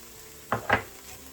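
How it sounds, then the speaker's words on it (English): Garlic and onions hit a hot pan on a just-switched-off burner while chicken gnocchi soup is being made, giving two short, close sizzling bursts a fraction of a second apart over a quiet background. "The residual heat from the pan will cook that garlic."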